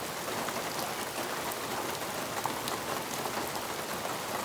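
Steady rain patters densely on a surface, an even continuous hiss of drops with no voices.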